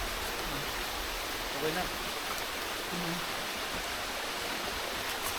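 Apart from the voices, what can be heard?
water flowing from unclogged supply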